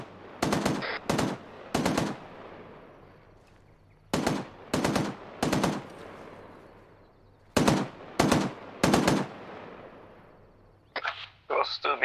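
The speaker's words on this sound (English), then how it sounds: "Shots on us." Arma 3 gunfire: three loud, close bursts of sharp shots in quick groups, separated by quiet gaps with a low hum, ending with a fainter crackle of distant fire.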